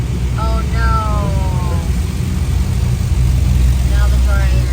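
Car wash dryers blow with a loud, steady roaring rush of air that fills the whole stretch, while people talk over it in excited, pitched-up voices.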